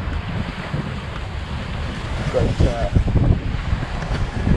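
Squall wind gusting across open sea aboard a sailing boat, a steady low roar of wind buffeting the microphone with wave wash, swelling louder midway, with a brief spoken word.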